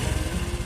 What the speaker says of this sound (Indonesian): bunyinya halus di mesin